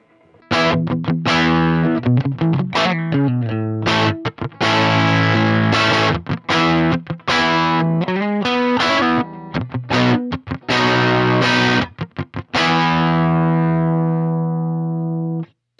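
An electric guitar on its bridge pickup plays through a Marshall Class 5 amp with distortion, sounding a loud run of chords and riffs with some ringing sustained notes, then a final chord decaying into silence.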